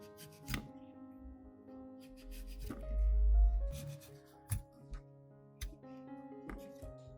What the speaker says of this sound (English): Next, we use a knife to cut off the scales